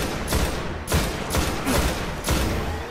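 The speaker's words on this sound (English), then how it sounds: "Stop shooting at me." Gunfire in the sci-fi shooter game Destiny, with about five loud bursts spaced roughly half a second apart and a dense, continuous din of shots and impacts between them.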